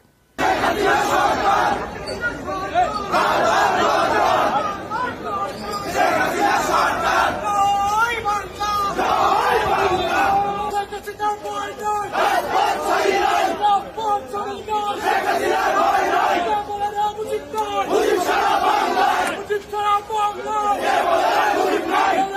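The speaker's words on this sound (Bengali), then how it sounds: "এই জন্যই আদালতে স্লোগান ওঠে হাসিনার পক্ষে" A loud crowd in a courtroom chanting slogans in support of Hasina, voices rising and falling in repeated rhythmic bursts, dense and continuous throughout.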